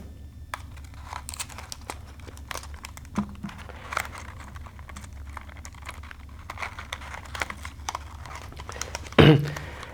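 Tape torn and pressed onto a pair of paper toy binoculars: soft crinkling and taps of handling throughout, ending in one sharp, louder rip near the close, fairly near with no talk.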